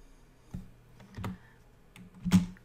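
Keys tapped on a computer keyboard during a programming lesson, a few separate soft clicks spaced about a second apart, quiet and close with no talk.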